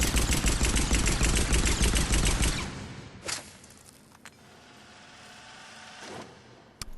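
Eagle pistol fire in the video game Mass Effect 3 during target practice: a dense burst of loud shots at first, then a few scattered, fainter reports separated by quiet gaps.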